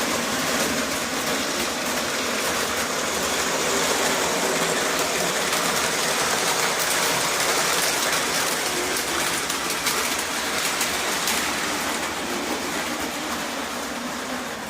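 A Lionel LionChief New Haven RS-3 model train hums and rattles steadily along its track on a 1950s layout, a continuous whirring drone with faint clicking, no voices.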